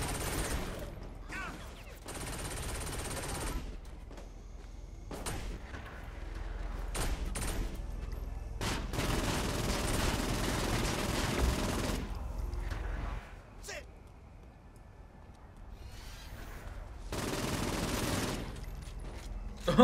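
Rapid bursts of video game gunfire from Saints Row IV rattle in long sustained volleys with short pauses between, loud and close, with occasional voices underneath.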